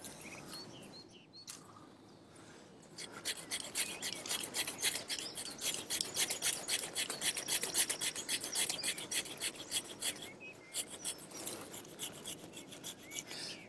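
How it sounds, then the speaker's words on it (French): Hand saw rasping through an olive tree branch during pruning of a large olive tree, a steady run of rapid back-and-forth strokes after a brief quiet start, close and moderately loud, with faint birds outdoors. "Je fais très attention à pas trop appuyer sur ma scie en fin de parcours pour ne pas blesser"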